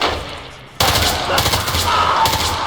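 Sudden sustained burst of rapid automatic gunfire in the Roblox game Hellmet, loud and continuous after a brief quiet moment, with faint voices underneath.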